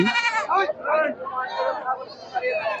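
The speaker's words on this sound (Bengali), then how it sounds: "সবগুলাই কিন্তু ব্ল্যাক বেঙ্গল জাতের ছাগল" Many Black Bengal goats bleat over and under one another in wavering, overlapping cries at a goat market, with a crowd murmuring in the background.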